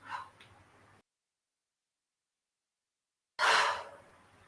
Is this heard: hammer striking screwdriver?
no